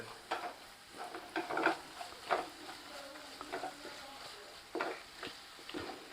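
Ginger garlic paste frying and being stirred in oil in a pan while preparing hotel-style country chicken fry, with a steady soft sizzle broken by repeated scraping strokes of a spoon, close and moderately quiet, no talking.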